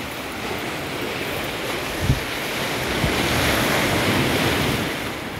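Ocean waves wash and break along Hastings Beach beside the Richard Haynes Boardwalk on Barbados's south coast, a continuous surf roar with wind buffeting the microphone.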